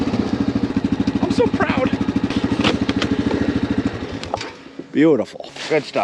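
A tractor engine chugs steadily at close range with a rhythmic low idle while being backed into a parking spot at a horse farm, then cuts out near the end; a person speaks over it with praise.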